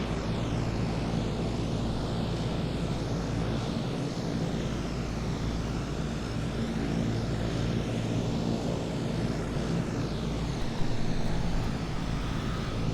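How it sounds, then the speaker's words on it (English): Airplane taking off in Microsoft Flight Simulator, a steady engine roar with deep low rumble that holds level throughout and swells slightly near the end, alone without talk. "We're taking off for runway 12."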